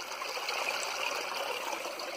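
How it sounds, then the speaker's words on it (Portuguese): A small waterfall formed after rains in the caatinga scrubland pours with a steady, even rushing and trickling wash, close and continuous, with no talking. "O som dessa pequena cachoeira. Que se formou aqui, ó, no meio da caatinga."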